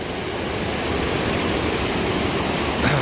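Waterfall at Steels Creek, North Carolina, roaring close by as a dense, unbroken rush of falling water, loud and steady for about three seconds with no voices.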